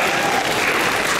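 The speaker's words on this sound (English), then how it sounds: "And give yourselves a round of applause." An audience at an anime convention skit contest awards claps in steady, dense applause, a continuous close crowd sound with no speech.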